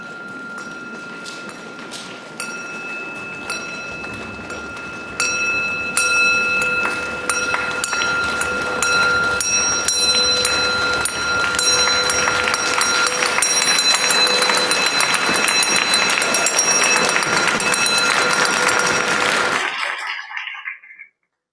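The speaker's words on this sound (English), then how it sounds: "I invite you to start to tap your feet" A church congregation claps hands and taps feet to greet the new year, a dense crackling wash of many claps that begins light, swells louder and sustains for nearly twenty seconds before cutting off abruptly.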